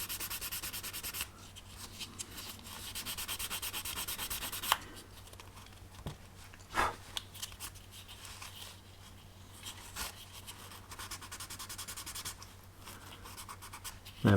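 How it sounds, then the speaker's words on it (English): Sanding stick rubbed over a filled spot on a 22-inch Eagle 1 scale model, a steady close scratchy rasp of short strokes that thins out midway into scattered light rubs and taps. "Then we can go in with our sanding stick and get that looking sharp."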